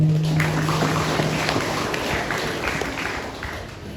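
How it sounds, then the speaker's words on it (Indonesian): A church congregation claps during an opening worship service, a steady dense wash of applause at moderate loudness with a brief tonal hum at the start. "Mari kita berikan tepuk tangan untuk Tuhan."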